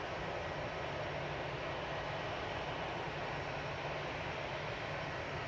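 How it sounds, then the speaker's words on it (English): An Airbus A320 Classic airliner at Manchester Airport produces a steady, broad engine roar, faint and distant, unchanging throughout. "This is an A320 Classic in front of us."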